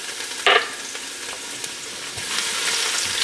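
Garlic sizzles steadily in hot oil on a stovetop, a close and even crackle with one brief louder burst near the start as it hits the pan, swelling slightly toward the end.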